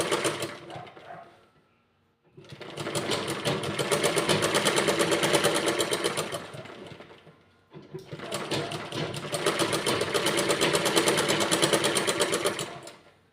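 A sewing machine stitches a blouse seam in two long runs, a fast even mechanical whir that speeds up, holds steady for several seconds, pauses briefly, then starts again, close and loud.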